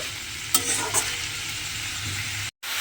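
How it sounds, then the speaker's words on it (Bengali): Steady sizzling of salted ash gourd frying in a pan, with a couple of stirring scrapes and a brief dropout near the end. "দিয়ে আবারও কিন্তু খুব ভালোভাবে একটু ভেজে নেব"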